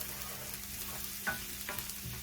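Risotto rice grains frying gently in oil and butter on low heat aboard a narrowboat, a faint steady sizzle with a few soft clicks and stirring taps.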